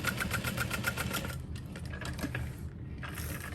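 A sewing machine stitches a backpack with rapid, steady mechanical whirring and clicking for about a second and a half, then quieter handling noise follows with a brief return of the motor near the end.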